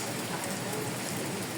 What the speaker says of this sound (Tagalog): Hindi kayang lusubin yung ulan.